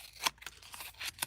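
Scissors snipping out wallpaper leaves for a junk journal embellishment: a few quick, crisp cuts close by, quiet and alone without talking.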